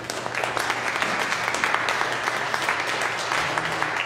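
A church congregation at Sunday Mass applauds in a steady, sustained burst of many hands clapping, with faint murmuring underneath.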